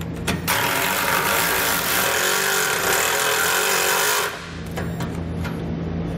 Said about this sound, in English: with a 15mm socket we're going to loosen up that nut that's on top